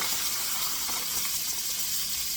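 Grain rinsed under a running kitchen tap, a steady soft hiss of flowing water splashing into a sink, even and continuous throughout at low level with no talk.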